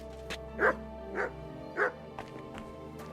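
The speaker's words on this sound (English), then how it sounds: "You silly doggy." A dog barks in the medieval video game Kingdom Come Deliverance 2, giving three short, moderately close woofs spaced under a second apart over quiet game ambience.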